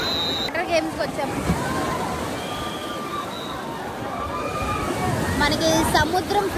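Water in a wave pool at a water park in Hyderabad sloshing and churning steadily, a broad continuous wash with crowd noise and voices mixed in.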